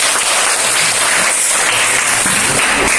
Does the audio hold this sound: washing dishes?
no